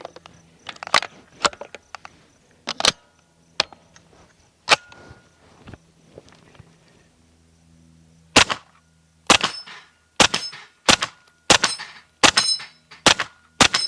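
Suppressed gunshots from an Octane 9 2.0 suppressor firing 124 grain Fiocchi ammunition, a few scattered reports early, then a quiet pause followed by a steady string of about nine sharp, evenly spaced shots, close and loud.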